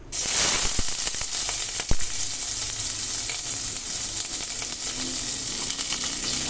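Onions, green chillies and curry leaves hit hot oil in a kadai for a chana dal egg curry, bursting into a loud, close sizzle that settles into a steady crackling hiss with light stirring.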